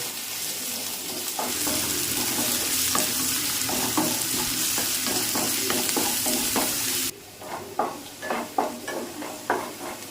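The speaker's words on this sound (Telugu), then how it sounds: "ఇవి లైట్గా గోల్డెన్ కలర్ వరకు ఈ విధంగా బాగా ఫ్రై చేసుకోవాలి" Green chillies frying in oil until golden, with loud steady sizzling and repeated scraping strokes of a spatula in the pan; the sizzle drops away partway, leaving distinct stirring scrapes.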